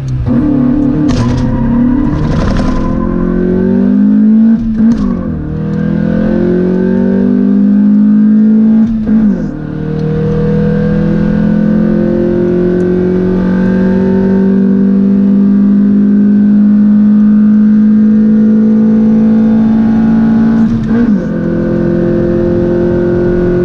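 A black Honda Civic EG4 with a 1.6-litre D16Y7 engine accelerating hard from inside the car, the engine revving up through several gears with rising pitch and brief drops at each shift.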